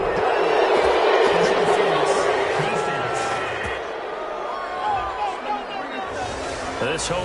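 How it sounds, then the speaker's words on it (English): Stadium crowd cheering in a PS4 football video game, a broad roaring swell that eases off midway, with a commentator's voice talking over it. "crowd, they're happy with that call"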